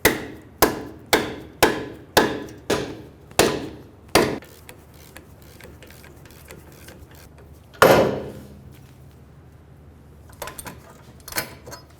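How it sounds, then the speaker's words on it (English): A hammer drives a ball joint removal tool on the front suspension of a 2003-2008 Honda Pilot in a garage. About eight sharp metallic strikes come in a steady rhythm, then a pause, one heavy blow, and a few lighter taps afterward. "I'm going to be using a ball joint removal tool."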